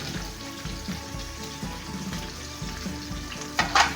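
A seafood boil pot with seasonings stirred in comes up to a boil, giving a steady bubbling sizzle with a few louder pops and crackles near the end.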